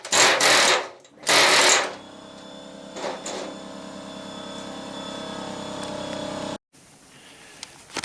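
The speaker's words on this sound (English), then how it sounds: "that's the only problem with running the air chisel. Causes air compressor to kick on." An air compressor kicks on in a workshop while an air chisel runs, starting with two loud bursts and then settling into a continuous mechanical drone that stops abruptly near the end.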